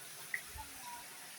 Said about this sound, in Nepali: यहाँनिर त पानी यसरी झर्दो रहेछ